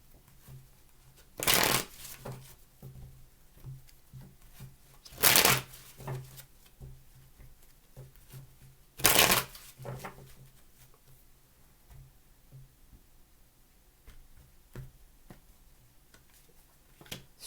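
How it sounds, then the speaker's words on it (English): Tarot cards shuffled by hand in three distinct bursts spaced a few seconds apart, each a short, loud riffling rush, with quieter handling and soft shuffling between them. "Three more shuffles."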